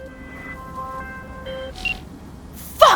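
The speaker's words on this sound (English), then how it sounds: "And a while later, you will get this little phone call." An incoming phone call chimes in the video game Cyberpunk 2077: soft electronic tones step through a short melodic pattern, then a brighter burst of ringing beeps arrives near the end, alone with no voices.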